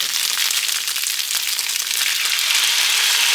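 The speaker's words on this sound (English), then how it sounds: "but I'm gonna add in the sauce now." Sauce poured into a hot frying pan of tofu with bok choy, broccoli and oyster mushrooms sizzles loudly and steadily, a bright crackling hiss that holds throughout with no talking.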